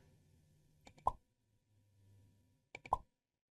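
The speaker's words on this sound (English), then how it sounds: "It's just a pop sound effect that comes from my quick asset library for making menus and things." A medium pop-up menu sound effect from a quick asset library plays twice: each time a few short clicks lead into a bright, clean pop, with a quiet pause and faint low murmur between them.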